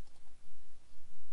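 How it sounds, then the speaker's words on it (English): A computer mouse clicks faintly a few times against a quiet background hiss, the soft clicks spaced unevenly. "So I'll just double click on that"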